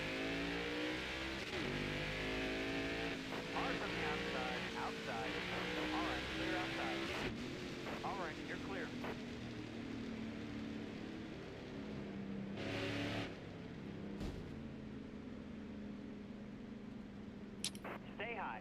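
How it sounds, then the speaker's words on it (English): Race car engines hum and rev steadily on a pace lap at Atlanta Motor Speedway in a Valvoline Cup Series racing video game, a continuous loud drone with shifting pitch, while someone talks over it. "We are now on our pace lap to get ready for the heat race."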